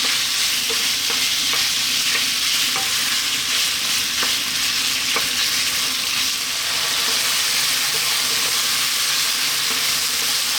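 Lamb pieces fry in oil in a pan, giving a steady, loud broadband sizzle with occasional crackles and pops throughout, and no voice.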